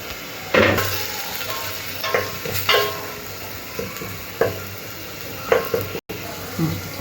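Tomato and spices stirred and sautéing in a pan for mutton biryani, with intermittent scraping stirs over a soft sizzle, close up.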